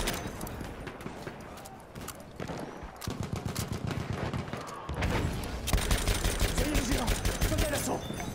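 Gunfire in the Battlefield 1 "They Shall Not Pass" multiplayer battle, rapid bursts of shots crackling through a dense, noisy mix of distant combat that thickens and grows louder in the second half, with someone talking over it.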